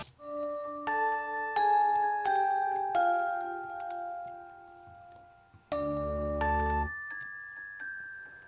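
Cheesy home keyboard playing a glockenspiel-like bell tone in a song, a run of bright, ringing struck notes in a steady melodic rhythm, close and clear, with a louder, fuller burst of sound partway through.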